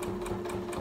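A sewing machine stitches through fabric and vinyl for a storage pocket, a quick steady run of needle strokes close by over a constant motor hum.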